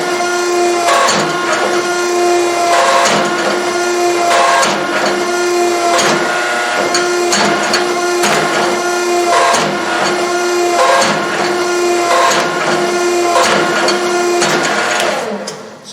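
A power hammer pounds a hot steel bar down to a half-inch square, striking in a loud, fast, steady rhythm of metallic blows that continues throughout and stops abruptly at the end.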